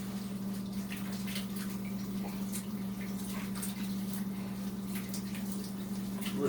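Tap water runs steadily into a sink during hand washing, a quiet continuous rush with a low hum underneath and small splashes scattered through it.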